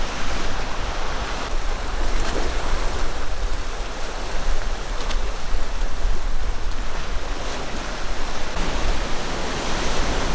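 Ocean waves surge and break steadily against rocks on a volcanic coastal path by the East Sea, a close, loud, continuous wash of surf with wind and no voices.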